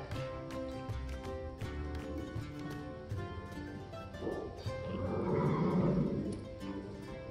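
A quarter horse gelding neighs, a drawn-out whinny rising near the end, close by, over a background of musical tones.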